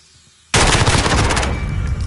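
Loud, sustained automatic gunfire erupts in a PS4 shooter game, a dense rapid burst running continuously after a quiet moment, with no talk over it.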